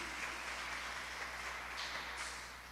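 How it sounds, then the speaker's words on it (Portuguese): Church congregation applauding during a sermon, a steady wash of many hands clapping at moderate distance that holds evenly for a few seconds and fades slightly at the end. "Vamos aplaudir ao Senhor por isso,"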